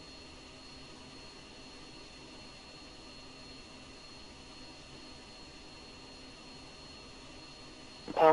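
An EF 2000 jet taxiing in a flight simulation game, heard as a steady low whining engine drone with broadband hiss, even and moderately faint, swelling briefly at the very end.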